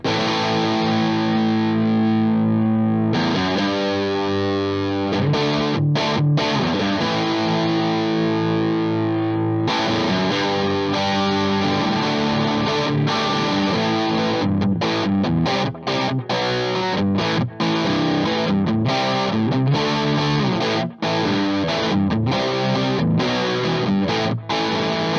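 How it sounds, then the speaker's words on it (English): An overdriven electric guitar plays through an Orange Micro Terror head and PPC112 cabinet, starting with sustained distorted chords and moving into choppy, palm-muted riffing with short breaks. The tone is loud, thick and crunchy, and no one speaks. "you can get anything from clean to midi crunch to pummeling overdrive"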